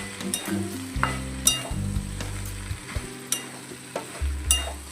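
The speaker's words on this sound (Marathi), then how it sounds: "आता याला मस्त असं आपण एकजीव करून घेऊ." Spicy Maharashtrian okra thecha with garam masala being stirred and mixed in a hot pan: repeated scraping strokes of a spoon against the pan over a soft continuous sizzle, close and fairly quiet, with no voices.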